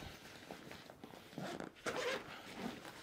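A zipper on the bottom of an XPAC backpack is pulled open in a few quick rasping bursts, close and fairly quiet, with light handling rustle between the pulls and no talking.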